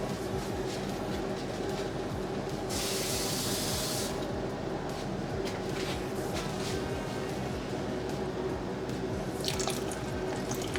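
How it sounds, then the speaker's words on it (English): Water poured from a packet into a hot pan of brown gravy on a stovetop, a steady splashing, sizzling wash that runs near and loud throughout without any talk. "I'm just using that same packet to add the water in."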